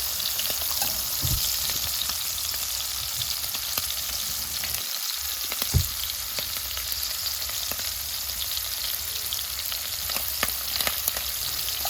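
Shrimp cook in grapeseed oil and butter in a pan, giving a continuous close sizzle with a few soft knocks and a brief utensil clatter midway, no voices.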